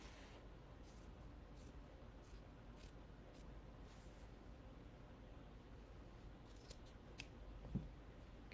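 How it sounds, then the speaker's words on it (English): Scissors snipping through the fabric of a cotton T-shirt to remove a sleeve, a faint, steady run of soft cuts over a quiet background, with a few sharper snips near the end. "So I'm just going to cut right along here on the edge, just cutting"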